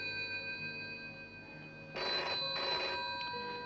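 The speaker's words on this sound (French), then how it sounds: "Mon téléphone sonne subitement et..." A telephone bell rings in a 1970s television adventure drama: two short, loud bursts of bright, rattling ringing over a soft, steady background tone.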